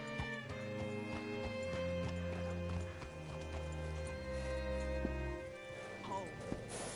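A horse in the video game Red Dead Redemption 2, its hooves clopping in a steady walking rhythm, close and clear, with voices talking and a musical score running underneath.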